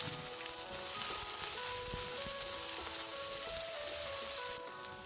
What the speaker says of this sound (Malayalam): പച്ചമുളക് ഇട്ട് കൊടുക്കാം സവാളയും കൂടി ചേർത്ത് കൊടുക്കാം നമുക്കിത് നല്ലതുപോലെ ഒന്ന് വഴറ്റിയെടുക്കണം